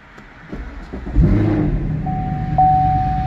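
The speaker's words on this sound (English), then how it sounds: "Let's test the car and make sure it's all starting." A Chevrolet Camaro engine cranks and catches after a push-button start, then settles into a steady idle, with a thin electronic tone chiming in over the running motor.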